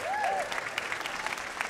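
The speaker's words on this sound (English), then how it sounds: "Did not think that would get an applause." Listeners at a talk on science and misinformation break into applause, a brief, moderately quiet patter of many hands that thins toward the end, with a faint voice near the start.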